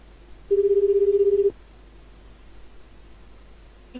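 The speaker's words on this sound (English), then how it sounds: "Let's see if we can dial one." A telephone dials out to a support line: one steady ring tone sounds for about a second, then a quiet line hiss follows before a faint click near the end, with no talking.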